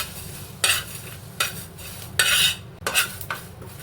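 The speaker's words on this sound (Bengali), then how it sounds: "এগুলো আমি সবকটা শুকনো খোলায় টেলে নেব গ্যাস কমিয়ে ভেজে নিতে হবে" Panch phoron spices dry-roasted in a dry pan over low gas for a sweet-sour mango pickle give several short bursts of scraping and rattling as they are stirred, with quiet gaps between.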